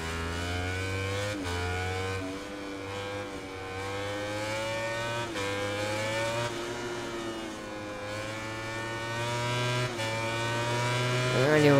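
Engine of a MotoGP racing motorcycle in the MotoGP 19 video game on PS4 at the Thailand circuit, a high-pitched revving whine that rises and falls through gear shifts and stays loud throughout.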